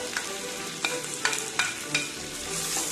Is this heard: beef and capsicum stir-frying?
yes